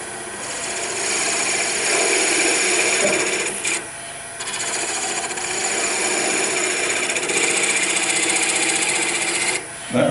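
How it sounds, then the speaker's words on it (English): A skew chisel evens up a wooden water dipper spinning on a lathe, giving a steady, loud scraping hiss that runs nearly nonstop for ten seconds, with two brief dips where the cut lifts off. "So now I'm going to break out my skew just to even this up a little bit."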